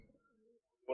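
Blue Rock pigeons cooing in a loft: a soft, low coo trails along near the start, then a louder, closer burst of cooing rises at the end after a brief pause.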